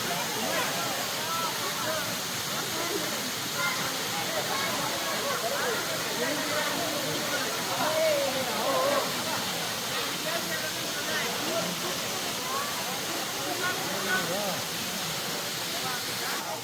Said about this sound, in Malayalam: അതുപോലെ സൂചിപ്പാറ വെള്ളച്ചാട്ടം,